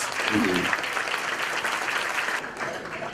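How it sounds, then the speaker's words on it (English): Conference audience at a statewide social entrepreneurship event gives the contestants a round of applause: a broad, even patter of many hands clapping that holds steady and eases slightly near the end, with a voice briefly audible at the start. "Let's give all the contestants a big round of applause."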